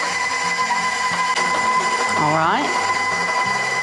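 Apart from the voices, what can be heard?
electric stand mixer mixing banana bread batter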